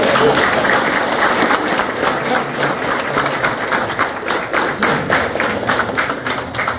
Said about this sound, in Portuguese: As palmas de Deus.